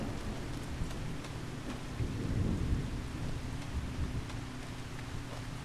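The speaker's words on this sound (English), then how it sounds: "Starting to hear the thunder rumble a little bit." Thunder rumbles low and heavy over steady rain on a homestead, swelling to a deeper roll midway before settling back into a continuous wash of rainfall.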